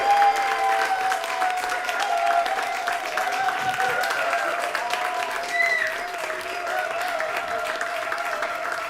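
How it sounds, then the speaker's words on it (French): Applause and cheering from a concert audience at Off Courts 2021: a continuous, fairly loud wash of crowd noise with clapping, steady throughout, over a sustained tonal hum that might be a lingering instrument or voices. "Encore une fois, des acclamations, des ovations et même du bruit pour Monsieur John et Monsieur Pierre."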